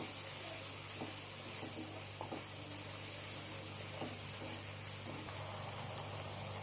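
Spice paste for a surmai fish curry fries in oil with a bay leaf, a steady, soft sizzle with scattered faint pops and spoon stirs, fairly quiet and alone.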